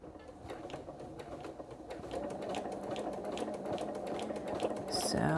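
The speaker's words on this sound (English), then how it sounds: "So we just keep on sewing" A sewing machine stitches a quilted Santa cookie rug in a fast, steady mechanical whir that grows slightly louder toward the end, with a brief higher squeak at the close and no voices.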